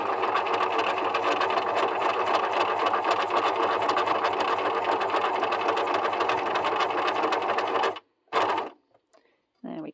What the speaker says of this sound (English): I'm just carefully going to sew down the centre of this bauble.